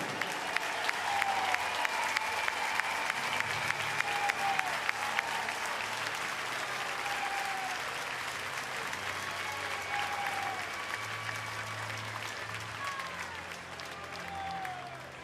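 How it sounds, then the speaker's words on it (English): A big stadium crowd applauds and cheers at the NCAA Men's College World Series trophy presentation, a long steady roar of clapping with whistles and shouts mixed in. "let's have a big round of applause for an incredible season and an NCAA tournament performance from this year's runner-up"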